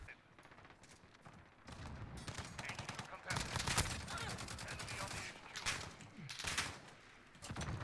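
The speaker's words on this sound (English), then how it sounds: "The Glock's actually sick, man. It fires that quickly." A Glock pistol fires rapidly in a first-person shooter game, sharp shots in quick bursts over a continuous noisy din of in-game battle.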